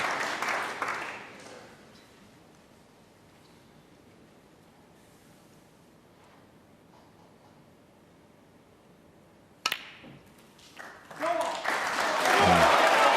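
A snooker crowd at the 2015 UK Championship applauds during Neil Robertson's maximum break. A burst of clapping fades to near silence, then the applause swells again, loud and sustained, after a sharp knock.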